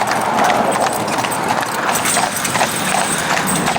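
A pair of Friesian horses trot along a road pulling a carriage, their hooves clip-clopping in a quick, steady rhythm over a constant rolling rumble, with faint voices beneath.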